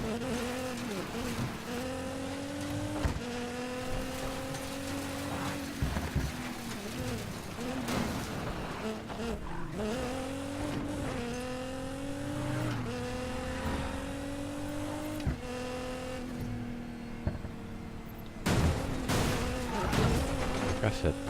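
A BMW in the Need for Speed Payback video game accelerates through repeated gear changes, its engine note rising and dropping in a steady cycle, with tire squeals and a speaking voice over it.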